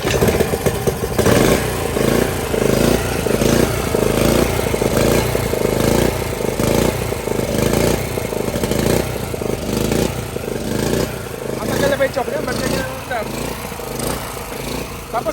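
A portable generator engine with its air cleaner removed runs loud and close, its rough, pulsing chug sustained throughout, while people talk over it.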